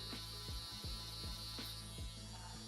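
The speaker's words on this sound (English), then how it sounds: "I'm letting the shaver do the work." An electric shaver buzzes steadily right up close as it trims a client's hair behind the ear for a drop fade, running continuously with faint regular clicking pulses and no talking.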